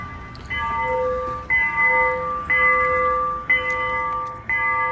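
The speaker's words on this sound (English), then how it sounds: "make the train actually have a real bell sound" A bright electronic bell chime repeats about every second over a low rumbling background, from the built-in speaker of a Wattman Mini Express ride-on toy train.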